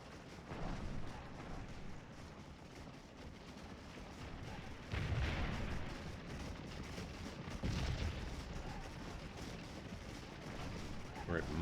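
Troops firing from behind a fence in Scourge of War, a Civil War battle game; continuous distant crackle of massed musketry with heavier surges around the middle, steady and fairly faint throughout.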